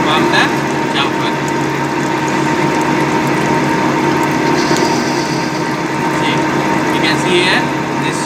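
A lathe turns a chamfer on the left side of a model part, a steady close mechanical whir with gear and ratchet-like rattling running unbroken throughout, loud and continuous.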